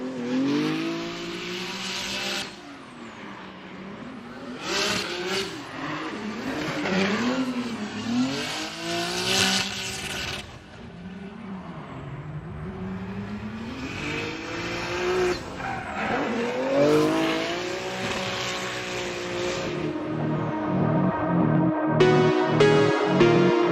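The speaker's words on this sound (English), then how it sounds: "let's listen to this VR Power NOS Energy Drink Nissan Z on GT radials" Nissan Z drift car on GT radial tyres at a drift competition, its engine revving up and down in long wailing sweeps mixed with screeching tyre squeal, loud and passing close, ending with sharp bangs and crackle.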